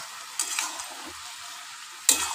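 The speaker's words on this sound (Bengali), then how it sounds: "এবার আমি এই যে কুমড়োটা ডুমো ডুমো করে কেটে রেখেছিলাম সেই কুমড়োটা দিয়ে দেবো" Diced pumpkin tipped into a hot frying pan with potatoes for a Bengali dish, giving two short bursts of sizzling and stirring against a quiet background.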